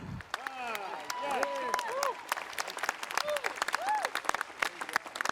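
Loud audience applause at a university graduation ceremony, with steady clapping from a crowd, punctuated by cheers and whoops throughout.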